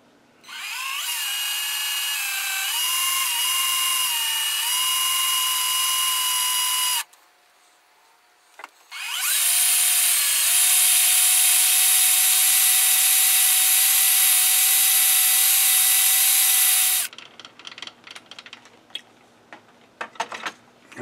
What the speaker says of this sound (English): I'm just going to spot drill for the larger hole and then go 90 and spot the other one.